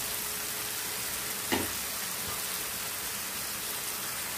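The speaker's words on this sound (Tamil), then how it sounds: "இந்த மாதிரி அனல் கம்மியாக வச்சுட்டு நம்ம பொறிச்சு எடுக்கலாம்." Elephant yam (karunai kilangu) podimas deep-fries in oil over a low flame, giving a steady, even sizzle throughout, with one brief clink of a utensil partway through and no talking.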